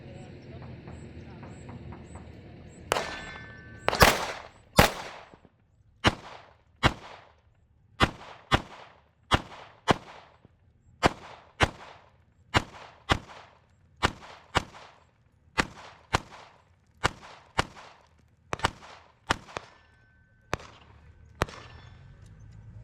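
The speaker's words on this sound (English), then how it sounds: "now I've got the Kimber, same test, shooting doubles at 7 yards on these circles." A Kimber 2K11 Comp pistol fires rapid pairs of shots at 7 yards, about twenty sharp loud cracks in a steady rhythm of close doubles with brief pauses between pairs.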